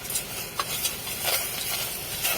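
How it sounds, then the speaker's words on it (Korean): Tomato stir-fried in a hot pot, a steady sizzling hiss with faint scraping stirs, close and continuous without pause. "먼저 달궈진 냄비에 토마토 먼저 볶아주는 거야."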